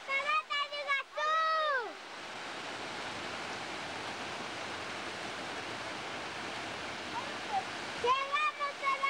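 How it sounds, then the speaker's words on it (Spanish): A steady, broad roar of rushing water from Iguazú Falls fills the middle of the clip, with excited voices shouting at the start and again at the end. "¡Llegamos a la cascada de Iguazú!"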